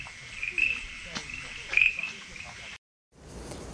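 Zhuluo tree frogs call outdoors near a school, sending out repeated short, high chirps over a steady insect-like background hum that cuts out briefly before resuming.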